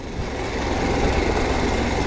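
A Harley-Davidson Pan America adventure motorcycle in off-road mode, its engine rumbling steadily and loudly up close as it rides over rough terrain, brief and unbroken, with no voices.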